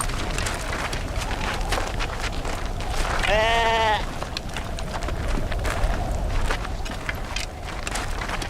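A sheep gives one distinct bleat of about a second amid a busy, noisy outdoor scene with scuffling and movement throughout.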